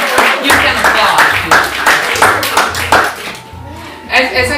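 A small audience claps in quick, uneven bursts after a magic trick, the claps close and fairly loud over a low background hum, fading out after a few seconds.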